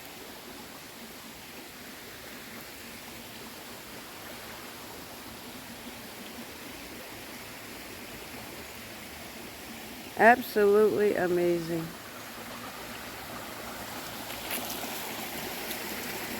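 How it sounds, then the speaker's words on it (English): A waterfall stream flowing on a trail in Thailand, a faint steady broadband rush of water throughout, with a brief spoken exclamation partway through. "So this might be some of the waterfall."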